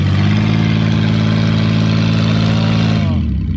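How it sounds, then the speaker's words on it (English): Silver Oldsmobile Alero engine revving loud and steady, its drone holding a bogged, strained pitch before dropping off at the end. "Oh, hear that power bog?"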